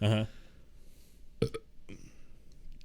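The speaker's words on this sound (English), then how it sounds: "I thought there was going to be more to that burp." A single short burp at the very start, loud and close, followed by quiet room tone with a couple of faint clicks and soft noises.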